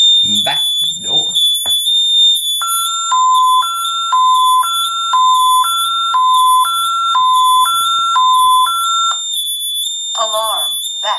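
ADT Safewatch Pro panel alarm going off for an opened back door: a shrill constant high beep layered with a rapid two-tone warble that cycles for several seconds, bracketed by short synthetic voice announcements.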